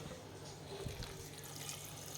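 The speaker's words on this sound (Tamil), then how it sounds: "இப்போ தேவையான அளவு தண்ணி சேர்த்துக்கலாம்" Water is poured into a pan of garlic and potato sautéed in butter while making broccoli soup, giving a soft, continuous splashing rush at low volume with no talk over it.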